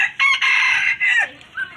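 A rooster crows loudly and up close, one strident multi-part cock-a-doodle-doo that breaks off with a shorter trailing note.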